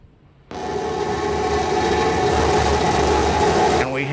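SpaceX Starship SN15 rocket engines igniting: a sudden loud, dense roar bursts in after a quiet moment and holds steady and powerful to near the end, with a voice briefly heard over it.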